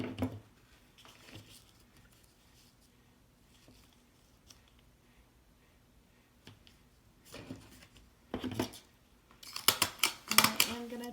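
Scissors trimming the ribbon ends of a homecoming mum, faint snips spread through a quiet stretch, then several louder close cuts and rustles toward the end.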